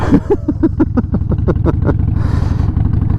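Harley-Davidson Sportster 1200C idling and revving on a gravel driveway, loud lumpy V-twin exhaust pops in a fast rhythmic burst, then a brief crunchy rush of gravel noise near the end, no speech.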